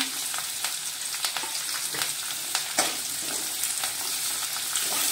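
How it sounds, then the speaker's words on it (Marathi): Curry leaves sizzle in hot oil with a bright, steady crackle, dotted with sharp pops and spatters and a few stirring sounds, close and fairly loud throughout. "कढीपत्ता घालूया तेलामध्ये"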